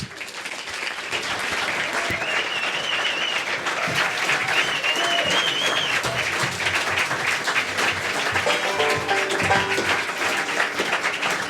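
An audience claps steadily to welcome the band onstage, a thick, sustained burst of applause that swells after the first second and carries on with faint cheers and whistles mixed in.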